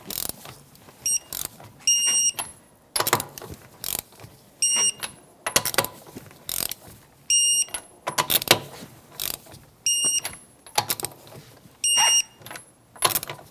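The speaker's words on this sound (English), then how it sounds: "21mm socket, 83 foot-pounds, and we're going to torque them in a star pattern." A torque wrench fitted with a 21mm socket tightens the wheel lug nuts on a 2009-2014 Nissan Maxima to 83 foot-pounds in a star pattern. Close, repeated bursts of ratcheting clicks come in regular groups, each capped by sharp high beeps.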